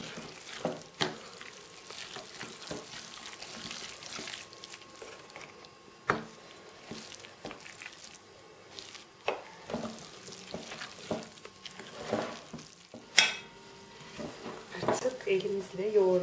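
Cookie dough with flour and baking powder is stirred in a bowl, giving soft, uneven scraping and patting strokes with occasional sharper knocks, fairly quiet and close, while a person talks over parts of it.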